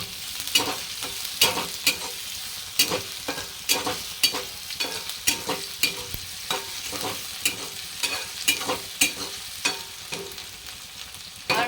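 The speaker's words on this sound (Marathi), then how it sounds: "मी टाकते आता एक बारीक चिरलेला कांदा हलवून घेते" Finely chopped onion frying in a pan is stirred with steady, rhythmic scraping strokes about twice a second over a continuous close sizzle, with no talking.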